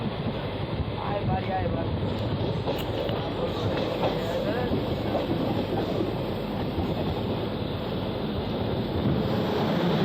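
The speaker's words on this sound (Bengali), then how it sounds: "ট্রেন পার করবে জঙ্গিপুর রোড স্টেশন।" A steady, loud rumble of a train passing through Jangipur Road station, with continuous rattling wheels and clatter throughout and no break.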